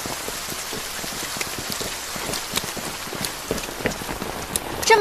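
Heavy rain falling in a period drama scene, a dense continuous hiss of drops spattering on surfaces, steady and fairly loud throughout with no one speaking.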